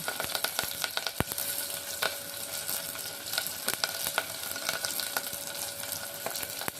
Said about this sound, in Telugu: ఆయిల్ హీట్ అయ్యాక ఉల్లిపాయ, పచ్చిమిర్చి వేసుకుందాం.